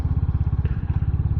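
Royal Enfield Hunter 350 motorcycle pulling ahead in traffic, its single-cylinder exhaust thumping in a fast, even low-pitched pulse, close and loud throughout.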